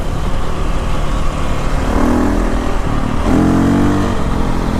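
A rebuilt KTM 525 dual sport motorcycle engine accelerates in a high gear, giving a loud, continuous close-up drone that rises in pitch twice as the throttle opens.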